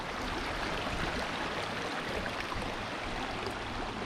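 Small waterfall along the Hopewell Furnace trail, a steady hissing wash of falling water that is close and continuous with no voices.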